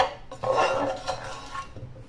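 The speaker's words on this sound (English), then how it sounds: "Now mix your carrots in." Hot glazed carrots being mixed in a pan, with a utensil scraping and clinking against the metal in short uneven strokes, close and moderately loud, with no talking.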